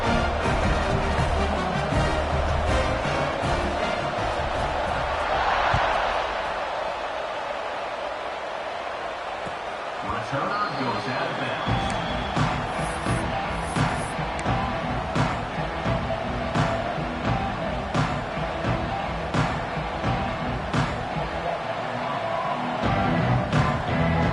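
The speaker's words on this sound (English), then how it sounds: "this crowd is buzzing after that last score" Crowd noise in the College Football 26 video game: a dense, steady stadium roar that swells and buzzes continuously after a touchdown, loud and filling the whole stretch with no voices on top.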